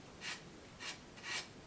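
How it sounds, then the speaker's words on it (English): Sandpaper rubbed against the nose of a small indoor catapult glider, three distinct raspy strokes at an even, unhurried pace, close and fairly quiet with no talking. "and then just sanding away"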